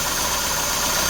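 The engine of an Austin Ambassador Vanden Plas idles steadily at tick over, a continuous close mechanical hum with a faint ticking, rattling texture and no change in pace.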